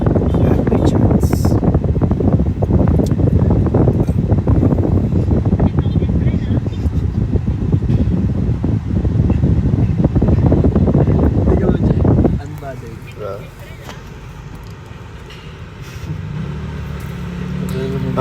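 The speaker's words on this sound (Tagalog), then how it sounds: "Ang hangin sis, nakatapat kasi sa akin yung aircon." A car's air conditioner blowing straight at the microphone, a loud rough rushing roar for about twelve seconds that then drops abruptly to a much quieter hiss.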